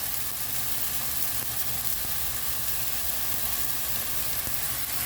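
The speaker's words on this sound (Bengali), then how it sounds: "এখন মশলাটা একটু ভালোভাবে কষিয়ে নিচ্ছি" Spice paste sautés in a pan as a dense, steady sizzle and frying crackle at moderate level, continuous throughout with no talk.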